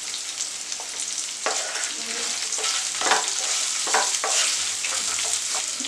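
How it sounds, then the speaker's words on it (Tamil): Onions sizzle and crackle in hot oil with a constant hiss, broken now and then by the scrape of stirring, loud and close. "கொஞ்சம் வெங்காயம் வதங்கின உடனே நம்ம எடுத்துடலாம்."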